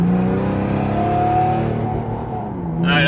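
Turbo diesel Mercedes pulling hard in first gear with the Tiptronic gearbox in manual M mode, a steady loud engine drone rising in pitch through the run, heard close from inside the cabin.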